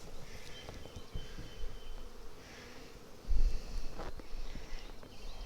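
Honey bees hum steadily around an open hive box that is full of honey. The dense, close buzzing continues throughout, with occasional handling knocks and rustles underneath.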